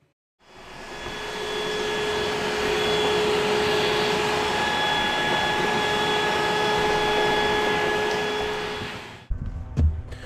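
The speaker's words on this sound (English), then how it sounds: "It may seem silly to be vacuuming a panel, but why leave debris in there?" A vacuum cleaner runs steadily at close range while clearing debris out of an open electrical panel during a 200A service upgrade, a continuous whining drone that stops abruptly near the end with a few clunks.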